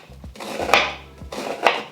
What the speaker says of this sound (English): I'm gonna start by chopping up my onion